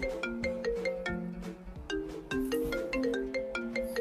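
A mobile phone ringtone plays a bright, repeating melodic tune for several seconds, clear and close, with no one speaking over it.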